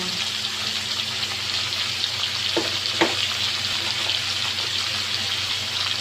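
Beef for mechado sautéing in a hot pan, a steady loud sizzle and fry throughout, with a couple of brief clinks of a utensil stirring, close up and with no talking.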